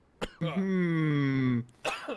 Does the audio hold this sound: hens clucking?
no